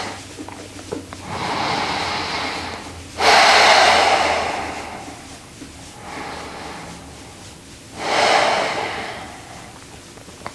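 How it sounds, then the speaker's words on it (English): Deep, even breaths out through the nose during a beginner yoga session, slow airy exhales and inhales rising and fading in a calm rhythm, close and fairly quiet. "Full deep breaths in. Deep, even breaths out through the nose."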